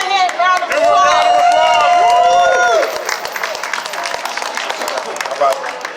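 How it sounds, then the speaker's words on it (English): A crowd applauds and cheers for a performer, with loud sweeping whistles over clapping at first, then settling into scattered clapping and crowd noise. "Give Mathematics a hand, round of applause."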